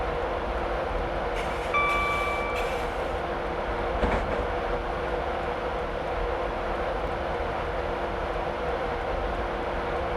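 A Class 91 electric train coasting with power idled in Train Simulator 2016 on the East Coast Main Line from Newcastle to Edinburgh gives a steady cab rumble. A couple of brief tonal beeps and a single clunk sound early, with no talk.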